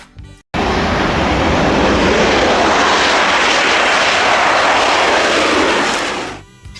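Toy fighter jet giving a loud, rushing jet-engine roar that starts abruptly after a short pause, holds steady for several seconds, then fades out.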